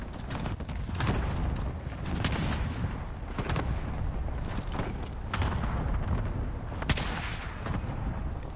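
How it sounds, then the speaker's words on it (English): Sniper gunfire in a multiplayer shooter match, repeated sharp cracks and distant booms over rumbling battlefield noise, one louder shot standing out near the end. "hear a sniper"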